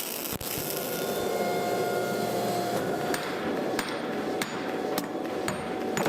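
Forge welding and drawing out a big Damascus steel stack for an integral hatchet, with sharp metallic hammer blows at irregular intervals over a constant loud roar of the forge.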